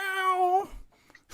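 A cat gives one clear, close meow, followed by a short quiet stretch with faint low rumbling.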